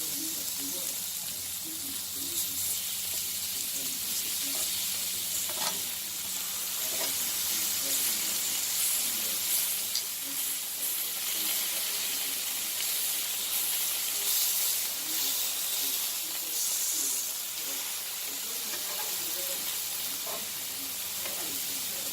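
Steaks fry in a pan with a steady, moderately quiet sizzle and hiss running throughout, punctuated by small pops and crackles.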